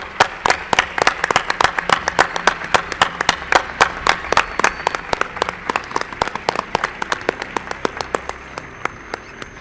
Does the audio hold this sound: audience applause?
yes